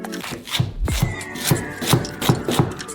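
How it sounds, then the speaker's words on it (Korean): A knife cuts chives (buchu) on a cutting board in a steady series of close, crisp chops about two or three per second. A light scraping runs between the strokes and no one speaks. "반으로 자르고 줄기를 따라 잘라주고"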